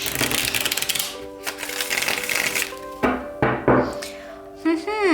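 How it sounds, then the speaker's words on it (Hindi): Tarot cards shuffled by hand in a burst of rapid riffling flutters, followed by a few separate slaps and taps as the deck is set down, with some faint background voice. "शफल कर लेते हैं कार्ड्स को ऑप्शन 1 के लिए।"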